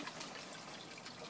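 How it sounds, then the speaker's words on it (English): Water trickles and gushes out of a gold sucker pump as it is emptied, a steady continuous pour at low level with no talk. "Let the water out a bit there."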